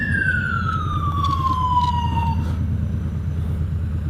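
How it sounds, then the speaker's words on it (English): Ambulance siren in a video game, a loud wailing tone sweeping downward, heard over a steady rumbling engine drone and continuous traffic noise. "It's an ambulance."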